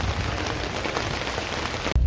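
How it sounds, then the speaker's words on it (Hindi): Steady rain falls at the Guptkashi bus stand in Uttarakhand, a dense close hiss of drops on surfaces that continues evenly, then cuts out abruptly near the end. "बहुत अच्छी बारिश हो रही है इस समय"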